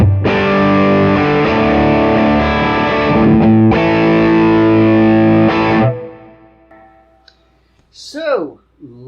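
An electric guitar driven through an overdrive pedal into an Egnator amp rings out loud and sustained in thick, distorted chords for about six seconds, then drops away to a faint tail and a brief voice.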